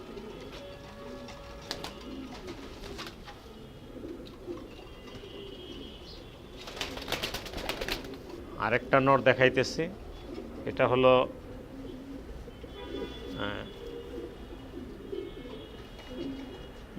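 Breeding racing pigeons kept in a loft coo softly and steadily in the background, with a burst of wing flapping and scuffling near the middle, while someone talks over them.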